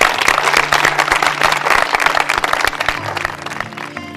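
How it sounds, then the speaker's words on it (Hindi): A large village crowd claps energetically welcoming a minister in a dense, fast burst of applause, tapering off slightly toward the end with a faint tonal hum underneath. "मंत्री जी का एक बार जोरदार तालियों के साथ स्वागत करेंगे आप लोग"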